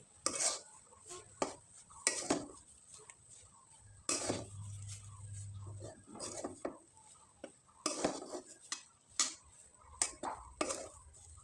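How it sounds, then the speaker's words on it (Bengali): A spoon stirs and scrapes gram flour dough in a pan over a low flame, giving faint intermittent scrapes, clinks and knocks against the metal, with quiet pauses between bursts. "তার জন্য একটা চামচের সাহায্যে খুব ভালোভাবে নেড়েচেড়ে নিতে হবে।"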